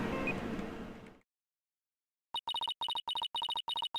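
A phone rings in the Ace Attorney Dual Destinies video game: after a burst of game music and then a second of silence, a bright electronic ringtone chirps in rapid repeated pulses, loud and close, with no voices.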